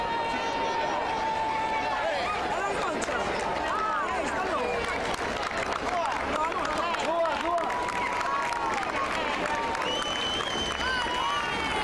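Outdoor crowd at a go-kart Grand Prix applauding a six-year-old racer, a continuous distant wash of clapping and cheering with busy crowd chatter and whistles, under a voice over a public address.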